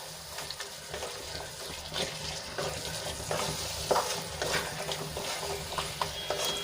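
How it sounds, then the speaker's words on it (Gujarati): Green chickpeas sauté in oil in a pan, a close, steady sizzle broken by repeated stirring scrapes and clinks of a spoon in an uneven rhythm. No voices are heard. "અને બેથી ત્રણ મિનિટ માટે આપણે એને તેલમાં સંતળાવા દઈશું"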